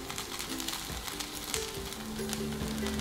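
Takoyaki octopus balls sizzling in a hot pan as they are rolled over, a steady close crackle of frying with soft scraping and tapping as each ball is turned.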